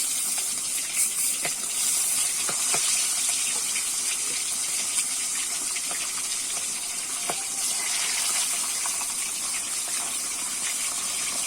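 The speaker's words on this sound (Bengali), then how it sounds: "বাদ বাকি মাছগুলো ভেজে নেবো" Rupchanda (pomfret) fish frying in oil, a constant loud sizzling hiss with scattered crackles and pops, unbroken and close, with no voices.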